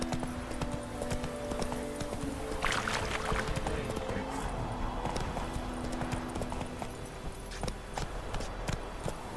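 Horse hooves gallop in The Witcher 3: Wild Hunt, a steady, rapid clip-clop beating in the foreground over the game's ambient soundscape, with no voices.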